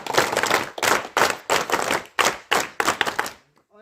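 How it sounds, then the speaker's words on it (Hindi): A group clapping hands together in unison at a temple gathering, about eight sharp rhythmic bursts of claps in a steady beat, loud and close, ending abruptly into quiet with no speech. "सभी एक साथ हाथों पर ताली बजाओ"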